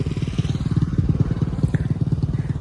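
A motorcycle passes close by, its engine putting out a loud, steady rapid putter that stays strong through the whole short moment, with no talk over it.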